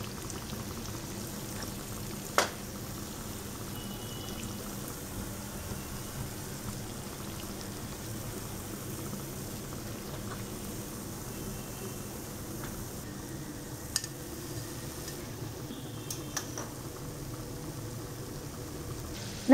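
Sweet unni appams fry in hot oil, giving a faint, steady bubbling sizzle with a few soft ticks and pops scattered through.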